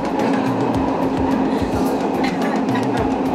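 An MRT metro train rumbles steadily, loud and close from inside the carriage, with continuous wheel and track noise and no clear speech.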